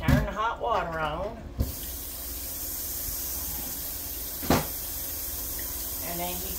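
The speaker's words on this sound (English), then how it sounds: "Turn the hot water on." Hot water runs from a kitchen tap in a steady hissing stream after a brief stretch of talk, with a couple of sharp knocks partway through and voices returning near the end.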